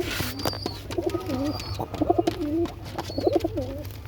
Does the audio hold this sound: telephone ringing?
no